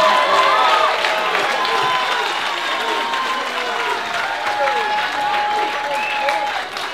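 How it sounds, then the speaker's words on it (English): A crowd at a live fight event applauds and cheers for the main event competitors, sustained clapping mixed with scattered shouts and whistles throughout. "how about a big round of applause for both of our main event competitors tonight?"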